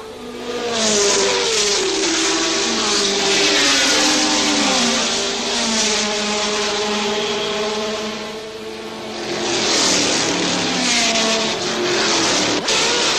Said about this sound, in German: Beim Rennen liegen von Anfang an die beiden Golf-Porsche vorne, nur um Meter voneinander getrennt, aber der rote Ferrari von Jackie X